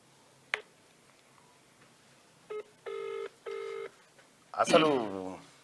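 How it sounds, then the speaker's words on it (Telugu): A telephone being dialed: a soft click, then several short multi-tone keypad beeps in a quick run, followed by a louder ringing tone, all close with no talk. "సిద్ధేశ్ అన్నకు ఒకసారి ఫోన్ కలుపు."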